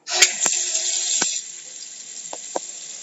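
Water rushes from a tub faucet through a stuck shower diverter, a steady hiss that drops to a lighter flow midway, broken by a few sharp clicks and knocks.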